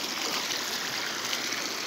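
Clean stream water flowing steadily in a natural setting, a continuous hissing, bubbling rush that stays even and fairly close throughout, with no voices.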